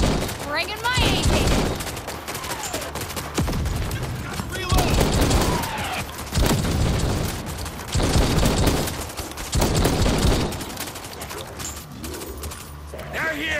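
Dense bursts of automatic gunfire in World War Z Aftermath horde mode on the Tokyo map, rapid fusillades coming in several waves at close range, with shouted game voices mixed in.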